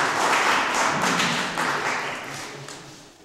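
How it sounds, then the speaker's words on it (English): An audience at a motivational advisory session applauds for Mr. Lho with dense, steady clapping that gradually fades toward the end. "We give Mr. Lho a round of applause."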